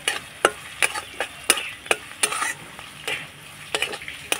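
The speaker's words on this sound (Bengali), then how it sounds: "একটুখানি নাড়াচাড়া করে ভেজে নেব কারি পাতাটাকে।" Curry leaves fry for a tempering, a light sizzle punctuated by a steady series of sharp metallic taps and scrapes as a spoon stirs the pan, close up with no voices.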